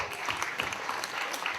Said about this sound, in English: Let's give my Greek brother a round of applause